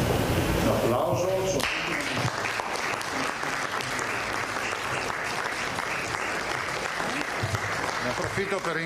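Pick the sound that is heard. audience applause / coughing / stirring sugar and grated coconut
audience applause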